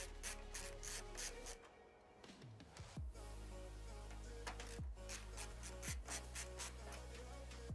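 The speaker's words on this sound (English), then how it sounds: "So now, gotta take all these bolts out of the top." A screwdriver or drill rasps steadily while bolts are backed out of the top of a PC case, with grinding, whirring stretches and a few sharper metallic turns between them.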